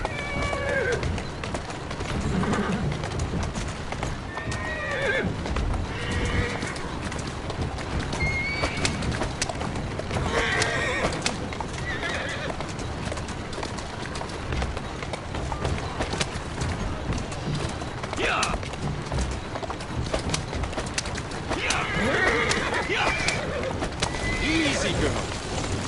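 Horse in Assassin's Creed Syndicate neighing and whinnying at intervals over steady clip-clopping hooves, with game background sounds and a voice speaking to the horse.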